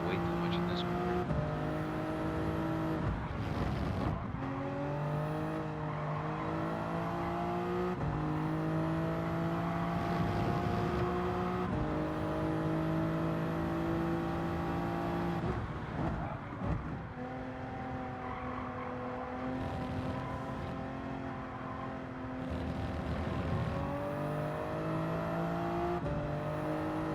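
A race car in Gran Turismo 7 laps Silverstone with a continuous, fairly quiet engine whine that climbs and drops in pitch through repeated gear changes over about half a minute.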